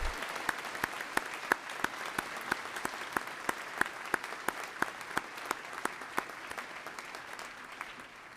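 An audience at a fall graduation ceremony applauds a brass band and its conductor, a steady wash of clapping that runs the full length at moderate, slightly distant volume with no talk over it.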